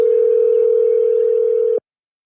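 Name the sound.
telephone ringing while calling someone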